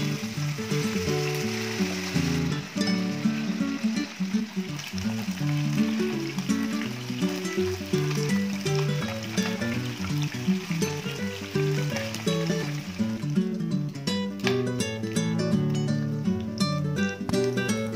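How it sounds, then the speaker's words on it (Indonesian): Chicken pieces frying in hot oil over medium heat, a steady, close crackling sizzle that continues without pause, with occasional light stirring toward the end. "Kita goreng ayamnya pakai api sedang aja ya, biar enggak cepet gosong."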